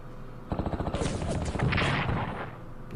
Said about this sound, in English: Defensive artillery helping out.